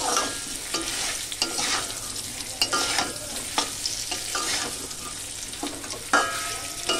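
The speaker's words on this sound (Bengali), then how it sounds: "আলুটা সামান্য পরিমাণে একটু দিয়ে ভেজে নিচ্ছি" Potato pieces frying in a pan give a steady hiss of hot oil, with repeated sharp scrapes and knocks of a spatula stirring them, close up.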